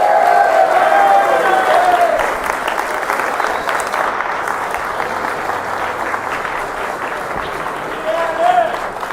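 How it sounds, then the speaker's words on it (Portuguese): A crowd at a live event applauds the women, with sustained clapping and some cheering over several seconds while a voice speaks at the start and end. "a salva de palmas para as mulheres"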